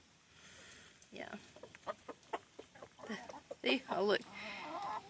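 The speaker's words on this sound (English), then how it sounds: "that's the rooster giving food to his girls. Did you hear that noise that he makes?" A rooster making repeated clucking food calls to his hens in a backyard flock, soft rhythmic clucks rising to a louder burst, with a person talking over them close by.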